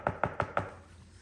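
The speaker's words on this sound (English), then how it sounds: "There's a knock at the front door." Four quick knocks on a front door, close and crisp in an even rhythm, followed by a quiet pause with no voices.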